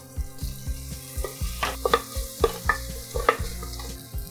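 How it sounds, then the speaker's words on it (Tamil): Onions and green chillies sauté in oil with mint leaves for a mushroom and green pea kurma, giving a soft sizzle broken by repeated scraping stirs and light clicks. "இப்போ இது கொஞ்சம் வதங்கினதுக்கு அப்புறமா இதில் நம்ம வெங்காயத்தையும் பச்சை மிளகாயையும் சேர்த்துறேன்"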